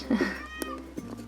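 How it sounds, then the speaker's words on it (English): A pet cat meows a few times in the background, soft and fairly close, with a faint voice and room noise around it. "if you can hear that, that's my cat meowing in the background"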